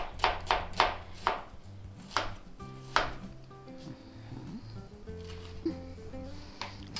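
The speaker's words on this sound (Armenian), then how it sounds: "ես շատ արագ կտրատում եմ սոխը" A knife chops an onion on a board in quick, sharp, close strikes, a rapid cluster of cuts and then a few slower ones, with faint kitchen clatter behind.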